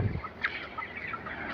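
Chickens on a poultry farm give a few soft, brief clucks in a quiet barn setting, faint and close, with no talking.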